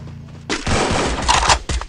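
Gunfire in the Free Fire battle royale game during a 2019 Unipin Indomaret Championship final in Pontianak: a dense, sustained burst of rapid shots with a few sharper cracks, loud and continuous after a quieter start.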